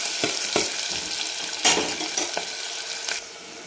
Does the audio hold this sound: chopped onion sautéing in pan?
yes